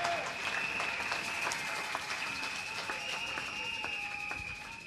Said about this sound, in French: Acclame très fort pour ça.